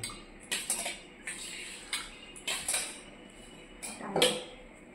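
A spoon or ladle clinks against a kansa bronze bowl as dal is served in a home kitchen, with five or six sharp, separate metallic taps spread over a few seconds against a quiet background.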